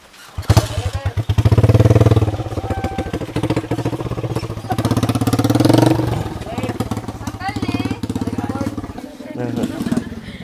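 A motorcycle engine runs steadily and loudly through the ride on the way to a mango orchard harvest, with a continuous throbbing drone under people talking.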